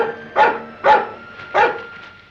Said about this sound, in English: What's the matter with that dog?